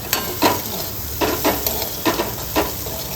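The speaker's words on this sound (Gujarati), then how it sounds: "તેમાં 3 થી 4 વખત આ રીતે ચમચા વડે ચલાવતું રહેવાનું છે" A spoon stirs carrot and chilli sambharo in a sizzling pan, with steady frying hiss broken by four or five scraping strokes at an even rhythm, close and clear.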